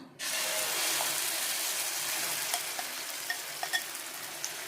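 Egg and onion batter hits a hot, oiled kadai with a sudden, close burst of sizzling. The sizzle settles into a steady frying hiss with a few faint clinks.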